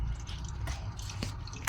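Water draining out of a Sharp automatic washing machine, a steady low gushing flow with brief drips and splashes, close and continuous, no voices.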